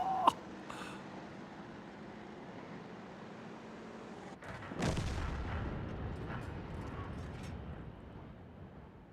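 Artillery fire in a video game: a distant boom with a sharp crack partway through, followed by a rumbling tail that slowly fades, set against a continuous low background noise.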